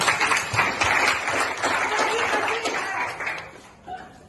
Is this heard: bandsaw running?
no